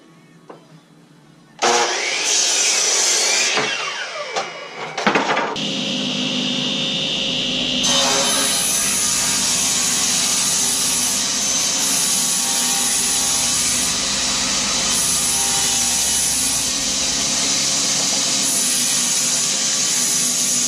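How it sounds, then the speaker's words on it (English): A power saw spins up and cuts zebrawood boards for a kitchen tabletop in a workshop, a loud steady whine and roar that starts abruptly and runs on continuously after a brief uneven start. "then I'm going to start cutting out these boards for the kitchen table for the actual top"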